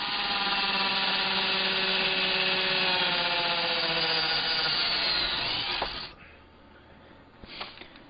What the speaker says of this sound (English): At least I got the pilot hole drilled through.